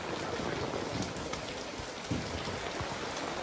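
Steady rain falls on an urban village in Xi'an, a dense, even hiss of drops on surfaces with scattered louder splashes, close and continuous throughout with no voices.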